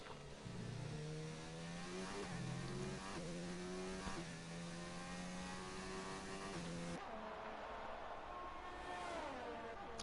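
A racing car engine in a sim racing game at a Brazil round screams through steady high revs with clear gear-change steps, then drops away as the car slows near the end, loud and continuous with no talk.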